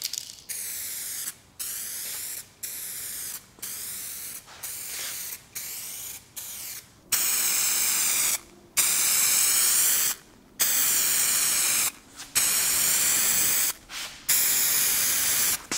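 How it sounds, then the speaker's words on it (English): Spray gun spraying clear coat onto a car panel, a series of loud, close hissing bursts of a second or two each, broken by brief pauses as the trigger is released, with no talking. "you are spraying clear coat on a panel that has hardly any clear coat left"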